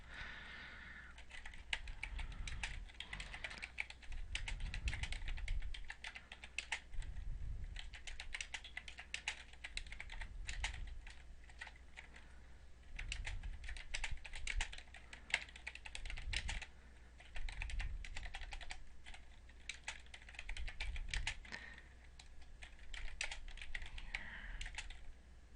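Steady typing on a computer keyboard while documenting a spreadsheet macro, rapid soft key clicks continuing for a long stretch at low volume, with no voices.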